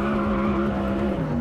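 Audi R8 V10 Performance RWD with 570 PS drifting on Gran Canaria: a loud, steady V10 engine roar with a sustained tire squeal layered over it, continuous and close throughout.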